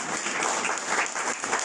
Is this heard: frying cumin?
no